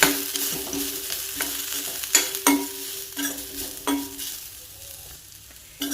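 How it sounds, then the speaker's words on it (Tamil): Grated coconut and ginger sautéed in a pan make a steady low sizzle, with a spatula stirring and scraping the pan in irregular strokes close by. "இதோட ஒரு கப் அளவுக்கு தேங்காய் துருவல், இதையுமே லேசாக வதக்கிக்கலாம்."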